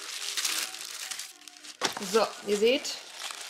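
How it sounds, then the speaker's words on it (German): Gift wrapping paper crinkles and tears as a parcel is unpacked one-handed, crisp rustling bursts up close, then someone speaks over the paper noise. "Muss ich das Papier ein bisschen aufreißen."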